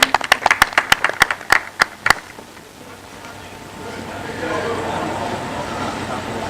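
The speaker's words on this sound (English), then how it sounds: "Let's give them a round of applause." Sharp, loud individual hand claps ring out in an irregular burst over the first two seconds at a football competition launch event, then fade into a soft, diffuse room murmur of a crowd as the clapping dies away.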